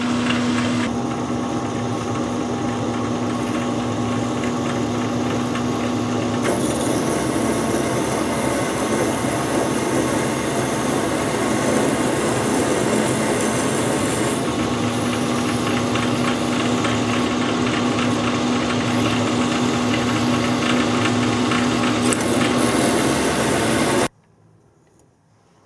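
Centre drill boring into metal with cutting oil on a machine, a steady close mechanical drone and whine that holds for most of the time before stopping abruptly near the end.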